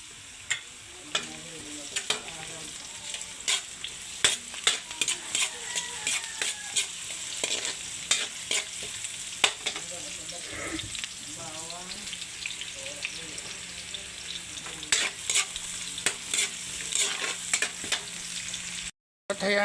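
Garlic frying in a pan for chicken feet adobo, a steady close sizzle broken by frequent sharp clicks and scrapes of stirring, with no talk.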